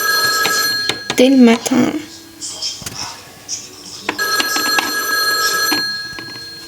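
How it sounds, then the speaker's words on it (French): A telephone rings in the morning in repeated bursts of bright bell tones at the start and again toward the end, with a person talking between the rings. "Le téléphone il sonne."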